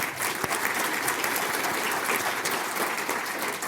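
Audience applause for an engineering fellow introduced at a panel event, a dense, steady wash of many hands clapping that holds at an even level for the whole stretch.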